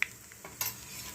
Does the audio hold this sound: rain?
no